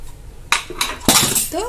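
A metal pressure cooker lid is opened after cooking jeera rice, giving a few loud close clanks and scrapes of metal in quick succession, with a soft voice at the very end.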